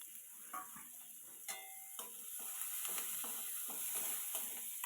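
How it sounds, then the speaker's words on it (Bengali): Chopped onion and minced garlic fry in a hot pan for a jackfruit seed mash, giving a steady close sizzle broken by occasional scrapes and clinks of a spatula stirring. "পেঁয়াজটাকে একটু ভালোভাবে ভেজে নেব, আর এর মধ্যে দিয়ে দেব কিছু রসুনের কুচি।"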